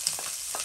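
Smoked sausage and bacon fry together in a pan with a steady, soft sizzle and light crackle, heard alone at close range.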